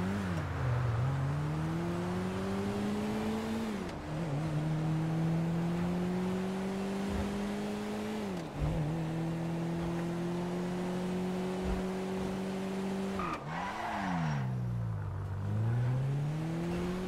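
A car engine drones and revs in Grand Theft Auto V, steady climbing pitch broken by several gear-shift drops, close and continuous with no talk.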